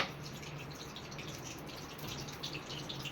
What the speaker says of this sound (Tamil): கொஞ்சமாக தான் இந்த ஊற்றி நான் ஊற்றுறது முந்நூறு எண்ணெய் ஊற்றுறேன் இது சுத்தமான நல்லெண்ணெய்